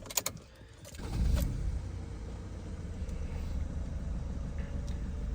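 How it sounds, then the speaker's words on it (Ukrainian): A 2015 Opel Zafira 1.6 diesel minivan engine cranks and catches, then settles into a steady low idle rumble, close and continuous with no talking. "завівся в нас автомобіль, як бачимо, протестували всі системи"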